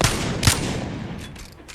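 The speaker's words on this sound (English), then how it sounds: "The Wingman is a fairly straightforward shooting gun with very little recoil climbing upwards." Two loud Wingman and Longbow shots ring out in Apex Legends, one at the very start and another about half a second later, each followed by a decaying tail and a softer later crack.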